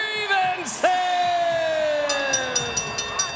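An arena boxing crowd cheers and whoops after a TKO win, with whistles and shouts rising over a steady roar, while an announcer talks above the noise.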